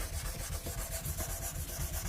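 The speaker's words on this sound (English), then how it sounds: "rub it in a little bit to begin with, and then that will probably dry in a few minutes" Oil being rubbed by hand into a Yamaha Pacifica electric guitar, a soft, close, rhythmic rubbing swish repeating steadily back and forth with no talking.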